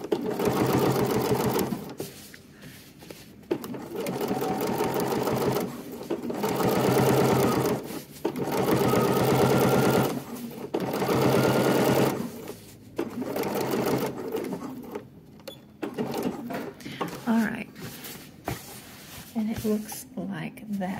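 A sewing machine stitches down a swim trunk pocket and seam allowance in repeated close whirring runs of a few seconds each, broken by brief stops, with a person talking over parts of it.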